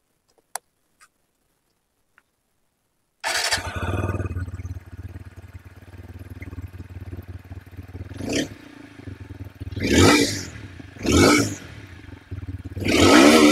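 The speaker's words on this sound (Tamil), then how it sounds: "இப்போ இந்த அப்பாச்சி 160யோட எக்ஸாக்ட் நோட் எப்படி இருக்குது அப்படிங்கிறத கேட்போம் வாங்க." A TVS Apache 160 4V motorcycle starts up after a few faint clicks, then idles with a steady low exhaust note close by, broken by several sharp throttle blips that rise and fall, the last one loudest. A voice briefly speaks.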